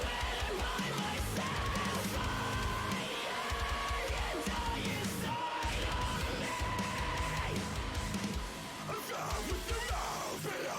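A metal vocalist holds a sustained scream over dense, loud distorted guitars and drums, with the full band filling the mix throughout.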